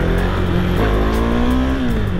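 A big single-cylinder motorcycle engine revs loudly and close by, a thick continuous drone that rises and falls in pitch with the throttle.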